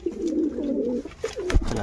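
Red-tailed pigeons cooing close by, a few low throaty rolling coos with a brief pause between them, alone and fairly loud.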